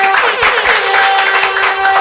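A television studio audience applauds the guests, dense continuous clapping close and loud for the whole stretch, with a faint steady tone running beneath it.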